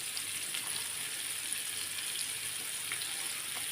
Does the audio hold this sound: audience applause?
no